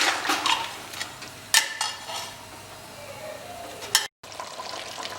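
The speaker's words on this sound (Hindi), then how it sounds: "अब इसे हम थोड़ा सा सोते कर लेते हैं" Chicken sautés in a pan for a dhaba-style curry, giving a low steady sizzle broken by a few sharp scraping stirs of a spoon against the pan, with one brief cut to silence near the end.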